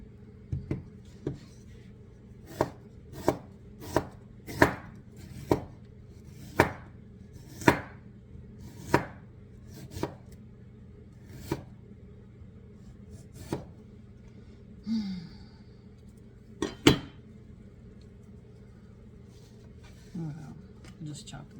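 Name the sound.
chopping ingredients for pear-nut muffins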